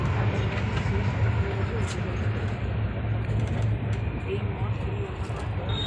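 Continuous low rumble and rattle of a moving train heard from inside, steady and fairly loud, with faint background voices.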